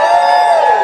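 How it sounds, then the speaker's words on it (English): A dense, loud crowd roar fills the whole moment, sustained and steady, like fans cheering at a wrestling match as a staged sound effect in an audio drama. "And the fans cheer loudly."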